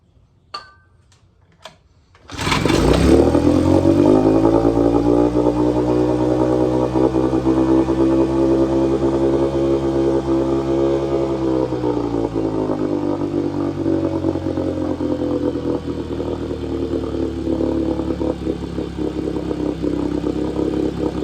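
A 1954 Evinrude outboard motor runs loud and steady after a couple of faint clicks, holding a continuous, slightly fluttering drone with a brief rev dip midway before settling back to a sustained roar.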